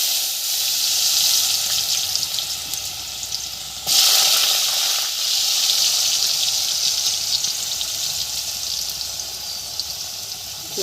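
Cut potatoes fry in a pan for a rohu fish curry, giving off a steady, close hiss of sizzling oil. The sizzle surges louder partway through, then settles into an even crackle with no speech.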